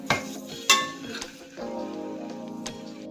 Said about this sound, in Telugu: ఏదైతే బాయిల్ చేసుకున్న ఎగ్స్ ఉన్నాయో ఇప్పుడు వీటిని డీప్ ఫ్రై చేయాలి.